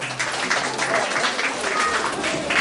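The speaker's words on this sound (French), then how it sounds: "Sous vos applaudissements, s'il vous plaît." An audience at a school's end-of-year festivities in Guinea applauds steadily. Many hands clap in a dense, continuous roar with a faint hum beneath.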